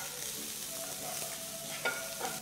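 Finely chopped onions frying in mustard oil, a steady close sizzle with a few soft scraping stirs near the end, quiet and continuous, no voices.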